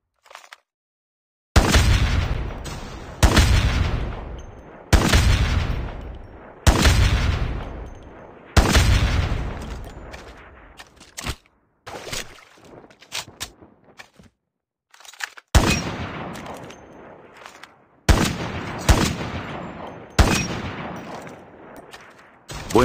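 Barrett XM109 anti-materiel sniper rifle fired in the Call of Duty Mobile game, about ten loud, separate booming shots at a steady pace, each with a long decaying echo, with short gaps and a quieter stretch partway through.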